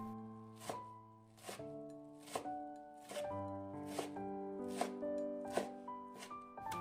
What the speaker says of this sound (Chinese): 用刀给它切碎一点